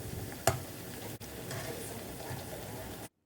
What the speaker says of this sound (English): add bread pieces to it one by one. Fry the bread till it turns golden brown